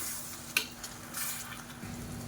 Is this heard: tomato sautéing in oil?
yes